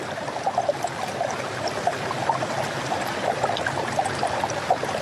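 A river stream flowing steadily, continuous gurgling and trickling water close by with small bubbling splashes, no voices.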